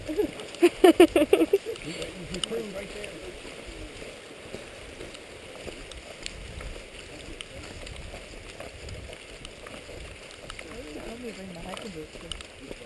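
Water rushes and gurgles steadily nearby under people talking, with a few sharp splashes or knocks early on.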